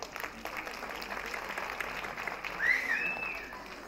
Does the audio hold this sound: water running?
no